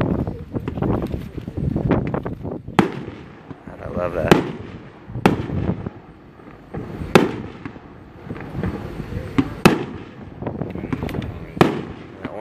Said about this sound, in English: Agent Orange, 500-gram cake. Grand Patriot Fireworks.